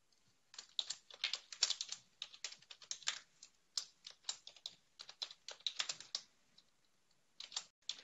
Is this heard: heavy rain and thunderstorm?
no